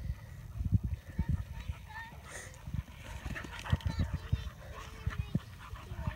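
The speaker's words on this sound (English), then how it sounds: "The wrestling is just getting intense. Dogs are running." Dogs running and play-wrestling, paws thumping and scrabbling in quick irregular bursts close by, with panting and small yelps, while someone talks over them.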